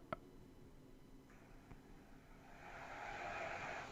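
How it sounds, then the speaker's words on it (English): A car passes faintly in the background with a soft rising whoosh that swells toward the end, after a couple of sharp clicks near the start. "I'm just hearing cars go past."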